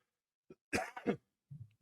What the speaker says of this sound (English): I actually had a cough